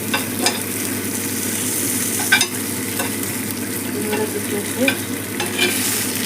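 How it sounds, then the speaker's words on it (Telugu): Pieces of fish frying in a pan with a little oil, a steady close sizzle with occasional stirring clicks and scrapes throughout. "ఈ విధంగా అన్నీ మంచిగా ఫ్రై అవుతుంది"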